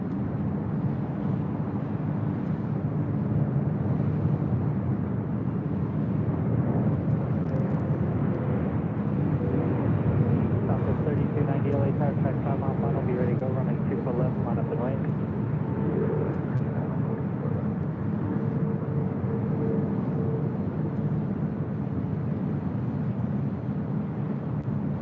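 An EVA Air Boeing 777 at LAX gives off a steady, broad jet roar heard from a distance, holding an even level for about twenty-five seconds with some wind noise mixed in and no talking.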